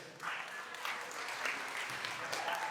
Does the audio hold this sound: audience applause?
yes